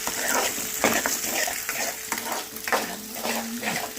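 An egg fries in a hot pan with leftover rice, a steady close sizzle broken by repeated scraping stirs of a utensil against the pan.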